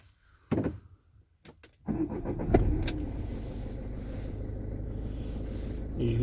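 A Peugeot Boxer 2.2 HDI diesel van with an intermittent air-flow sensor fault restarts: a short cranking burst, then the engine catches and settles into a steady, fairly loud idle that continues to the end.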